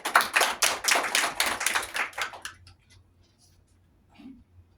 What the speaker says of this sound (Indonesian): Beri tepuk tangan buat Mbak Dila